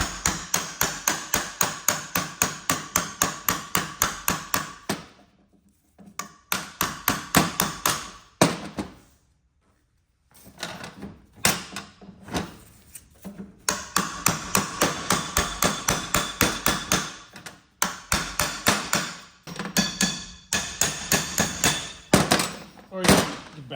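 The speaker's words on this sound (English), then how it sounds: "And this is knocking out the seal on the other end." A punch with a plastic tip is hammered to knock a seal out of the end of a steering rack during a rebuild. Loud, rapid metallic strikes come in steady bursts, with brief pauses between runs.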